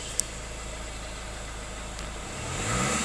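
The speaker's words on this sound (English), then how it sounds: "Engine sounds spot on." A Ford Focus 1.6 TDCi diesel estate with high mileage idles steadily, a continuous low engine hum with a faint click near the start and a slight rise in level toward the end.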